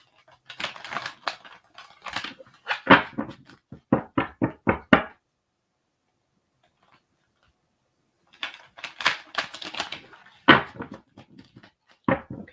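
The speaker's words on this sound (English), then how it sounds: "Okay, one more shuffle, Sharia." Tarot cards are shuffled in two bursts of quick riffling taps and flutters, nearby, with a silent pause between the rounds.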